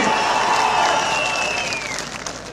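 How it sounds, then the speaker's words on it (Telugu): A large crowd claps loudly in a dense, sustained round of applause, with a few whistles and cheers rising over it before it slowly tapers. "గట్టిగా చప్పట్లు కూడా చెప్పండి,"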